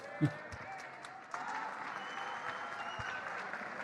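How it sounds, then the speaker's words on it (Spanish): Audience applause in a studio during a television interview with Javier Milei, a steady moderate wash of clapping following a brief knock, continuing evenly to the end. "ahí estamos escuchando los aplausos de la gente"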